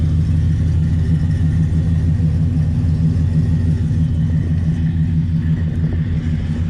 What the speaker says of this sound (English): Got dual exhaust.